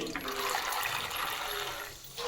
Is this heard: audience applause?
no